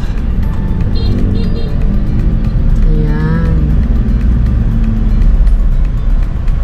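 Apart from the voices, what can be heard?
city street traffic heard from inside a car at a stoplight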